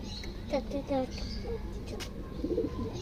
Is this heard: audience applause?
no